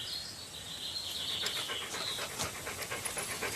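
Dogs pant in quick, rhythmic breaths close by in a French feature film, with faint bird chirps and insect buzz in the outdoor background.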